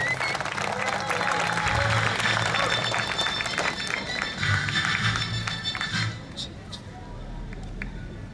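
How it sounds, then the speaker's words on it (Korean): An outdoor crowd at the Insa traditional culture festival in Insadong, Seoul, claps to welcome National Assembly Speaker Chung Sye-kyun. Sustained applause with some brighter tonal sound in the mix, easing slightly toward the end. "큰 박수 부탁드립니다."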